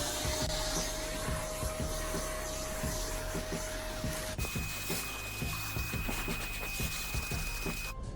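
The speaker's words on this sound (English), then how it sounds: "But for now we're just going to hoover it out with this bit here." A vacuum cleaner hoovering out the carpet of an Alfa Romeo Giulietta, a loud continuous motor whine with the pitch shifting partway through, alone.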